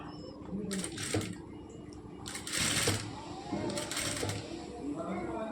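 A sewing machine stitches both sides of blouse fabric in short, soft bursts, running under continuous talking.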